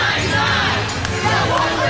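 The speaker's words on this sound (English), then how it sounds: "They seem to be cheering about something." A protest crowd at an Occupy Wall Street march cheers and shouts together, a loud dense wash of many voices close by, continuous throughout without a break.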